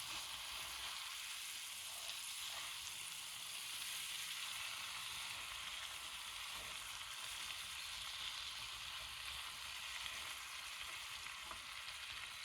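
Food frying in garlic and herb butter in a pan outdoors, a continuous close crackling sizzle with faint shifts as pieces are flipped, no voices.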